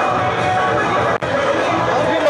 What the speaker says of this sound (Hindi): काफ़ी भीड़ है यहाँ पर